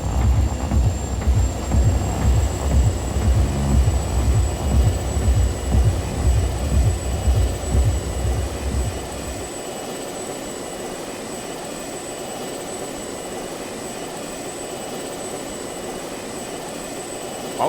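Jet aircraft flying in the video game Just Cause 2, a loud steady roar with a high whine for the first half, then dropping to a quieter continuous engine hum with the whine still present.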